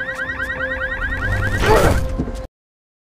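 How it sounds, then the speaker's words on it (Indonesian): A car alarm wails in rapid rising sweeps, loud and close, with a rough burst of noise near the end before it cuts off abruptly into silence. "mematikan alarm pada mobil"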